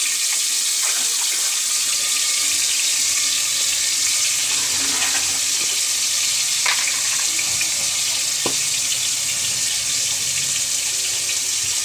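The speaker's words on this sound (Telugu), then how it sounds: "దుంపలు వేపుతాం" Potatoes frying in a pan for mutton curry, a loud, steady hissing sizzle heard close up, with occasional faint clinks and scrapes underneath.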